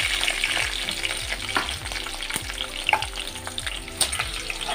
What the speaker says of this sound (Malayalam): നമുക്ക് ഫ്രൈ ചെയ്തെടുക്കാം. പച്ചമുളക് ഇട്ട് കൊടുക്കാം.